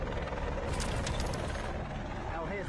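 A rescue helicopter carries a patient to hospital, its rotor and engine a steady, dense roar that holds at a constant level through the whole recording with no voices over it.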